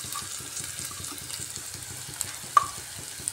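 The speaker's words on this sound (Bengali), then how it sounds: "থেতো করে রাখা আদা রসুনটা দিয়ে দিচ্ছি।" Crushed ginger and garlic frying with onions in a pan for a chickpea and chicken ghugni, a steady close sizzle with a few light clinks of stirring.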